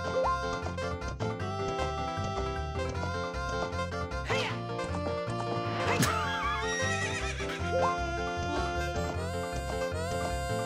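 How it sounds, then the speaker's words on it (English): A horse whinnies loudly in The Legend of Zelda: Ocarina of Time over busy, layered background music, with faint hoof clatter mixed in. "I love this horse"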